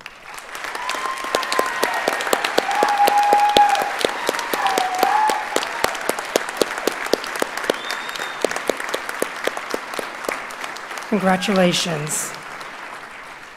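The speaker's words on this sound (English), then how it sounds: "You and your family and faculty members deserve a hearty round of applause" A graduation audience at a Sacred Heart University physician assistant ceremony bursts into sustained, lively applause, rising early and then holding steady, with a brief spoken word near the end.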